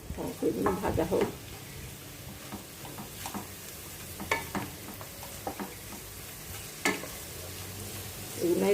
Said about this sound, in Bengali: এগুলো ভাজা হোক।